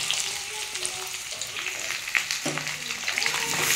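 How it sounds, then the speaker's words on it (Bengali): Potatoes, onions and tomatoes frying together in a pan, a dense close crackling sizzle with occasional stirring scrapes and a soft voice murmuring underneath. "এর মধ্যে আমি আলু, পেঁয়াজ, টমেটো সব একসাথে দিয়ে এবার একটু ভেজে নেব।"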